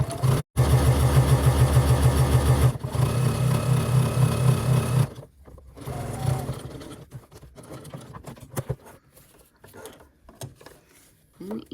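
A sewing machine stitches clear vinyl for a phone pouch, a loud rhythmic whir with a brief pause near the start, then stopping midway as quieter fabric handling and a voice follow.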